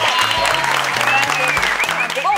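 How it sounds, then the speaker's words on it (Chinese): Brief burst of studio audience applause, a dense, bright clatter of many hands clapping close and loud throughout, with a voice speaking over it. "掌声鼓励"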